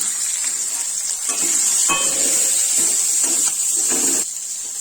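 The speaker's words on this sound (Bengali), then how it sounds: "রসুন দিলাম, আর আপাতত অল্প কটা পেঁয়াজ দিচ্ছি" Garlic and a few onions frying in a hot pan, a bright continuous sizzle and hiss up close, with occasional soft clatters as pieces are added and stirred.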